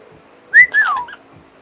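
A person whistles a short, clear tune with a rising note and then a falling glide, loud and close, with a parrot owner's practised technique and no talk over it.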